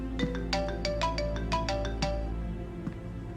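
A phone ringtone plays a bright, repeating melodic pattern of short tones, steady and clear, with no talking.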